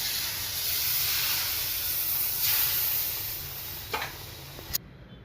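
Creamy milk poured into a hot sukhadi mixture of ghee and jaggery, giving a loud continuous hissing sizzle that fades toward the end, with a couple of clicks before it cuts off.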